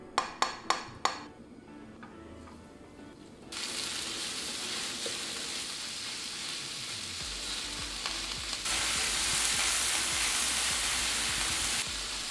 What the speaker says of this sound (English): In my favorite vermicular fry pan, I'm going to saute about ½ pound of ground beef, using about a tablespoon of vegetable oil.